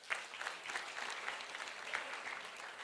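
A congregation in a church breaks into dense, sustained applause, many hands clapping together at moderate distance, steady for the whole stretch with a few sharper bursts.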